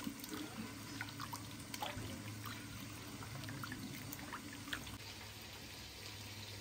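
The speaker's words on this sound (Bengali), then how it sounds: "ডালগুলা বাইটে পানিতে মিলাই নিতেছি" Water pours steadily into a bowl of ground black lentils, a continuous splashing trickle with faint clinks, no voices.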